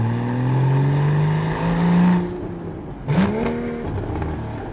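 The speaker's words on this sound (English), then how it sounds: "the auto blip, as a matter of fact, kicks in." A Porsche 981 Cayman S 3.4 with manual gearbox, set in Sport Plus, revs up, then the engine drops away and a sharp auto-blip flares the revs on the downshift. The engine note is loud and close, and no one speaks.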